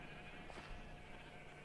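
A sheep bleats once in Minecraft, a faint brief cry heard over a steady low background hum with no one speaking.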